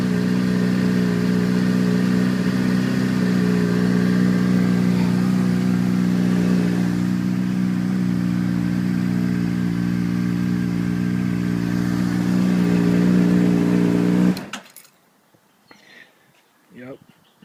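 A Honda CBR600RR motorcycle fitted with a Yoshimura exhaust idles and revs loudly, a steady harmonic engine drone held close for about fourteen seconds before cutting off abruptly, leaving faint background noise.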